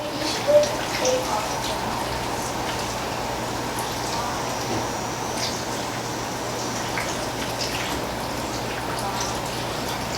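Lime water poured from a pitcher over cucumbers for sweet pickles makes a steady, soft splashing pour that runs for the whole stretch, close and even in level.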